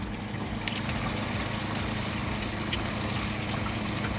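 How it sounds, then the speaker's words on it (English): Water runs steadily from a hose into a van's sink while the onboard water pump hums, a continuous low whirring drone under gentle flowing liquid, close and unbroken. "I'm just gonna let the water run down in here and fill it up"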